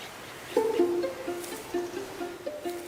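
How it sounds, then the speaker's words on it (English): Native forest birds on Guam give a few short whistled notes in a quick, uneven series, faint and somewhat distant against a quiet, airy background. "Guam was once home to over 12 native species of forest birds, each with their own unique sound"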